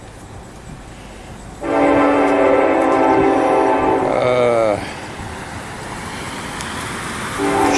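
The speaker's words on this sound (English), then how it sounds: "sorry about the train going past," A train passing in a town street setting, its horn sounding a loud sustained chord for about three seconds with a falling pitch as it ends, over steady rumbling rail noise, with a voice briefly speaking.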